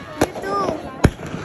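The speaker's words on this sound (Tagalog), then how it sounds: "Fireworks everywhere." New Year fireworks go off outdoors with two sharp nearby bangs and a faint whistling in between, with people's voices in the background.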